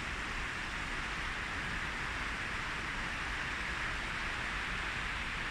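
Rain falling on a bridge in Podgorica, a faint, steady, even hiss that carries on unchanged throughout with no one speaking.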